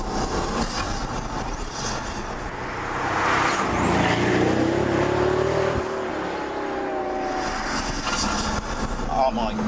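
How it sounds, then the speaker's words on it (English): A Pagani Huayra supercar, 720 bhp, heard from inside the cabin with the window down as its engine revs and accelerates, a rising, swelling roar that builds in the middle and stays loud to the end. "put the window down and then prepare your ears for this"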